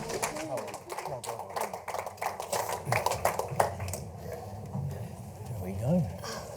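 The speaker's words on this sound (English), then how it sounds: "please, everyone, give them a big round of applause" Audience applause for the panelists at a media conference, scattered rapid clapping that thins out over a few seconds while people chatter and murmur underneath.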